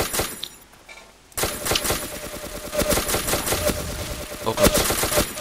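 Gunfire in the blocky shooter game Ace of Spades, with a sniper rifle in use: a brief quiet gap, then a dense run of sharp shot cracks and clatter at moderate loudness.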